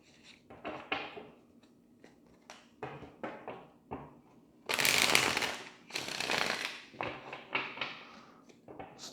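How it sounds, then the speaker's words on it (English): Tarot cards being shuffled by hand, a series of soft close riffles and taps with one louder, longer burst of shuffling in the middle, quiet and without speech. "Let's do a little shuffling."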